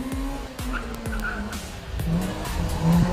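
A Nissan March race car in the up-to-1500cc specials class at the Eliyakanda hill climb squeals its tires through a corner, engine note rising and falling under the skid, heard from a moderate distance.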